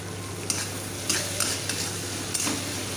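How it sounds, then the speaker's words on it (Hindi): Tomato and salt fry in oil for a Bengali tilapia fish curry, giving a steady close sizzle broken by several spoon-stirring scrapes, with no talk. "टमाटर गलने तक पकाएंगे"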